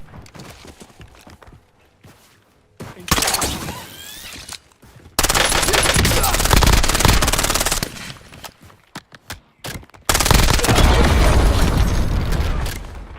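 Warzone video game gunfire comes in long, loud bursts of rapid automatic fire, with quieter scattered shots and thuds in the gaps between the volleys.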